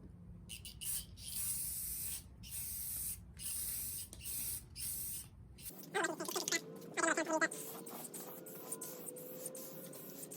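Aerosol spray paint hisses in a series of short bursts as a first coat goes onto a motorcycle gas tank, close and sharp, followed by quieter rustling and a faint voice.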